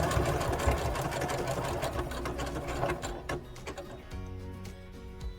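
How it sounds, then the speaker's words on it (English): A sewing machine runs at close range stitching a lined patch pocket, its rhythmic needle clatter and motor hum steady at first, then slowing into separate taps near the end, with no talking. "I am not using any pressure because I'm letting the machine move."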